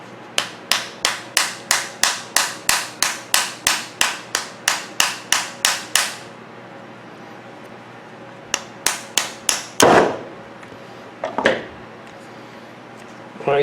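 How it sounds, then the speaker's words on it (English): A small hammer strikes a part out of a microwave fan in a rapid run of about seventeen sharp metallic knocks. A pause follows, then a few more scattered blows and a scrape, all close. "you get a small hammer and knock out this part here."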